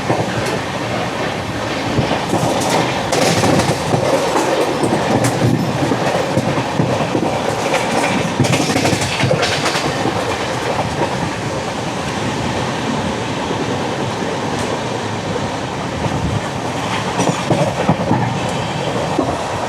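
The 20924 Gandhidham–Tirunelveli Humsafar Express rolls along the rails near Valsad, its steady clickety-clack rhythm and wheel rumble heard close from on board, with occasional faint squeals over a constant roar.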